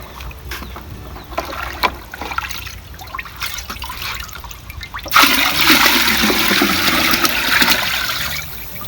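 A mixture is beaten into a bucket of water, soft irregular splashes and sloshing at first, then a louder, continuous rushing churn of water for the last few seconds.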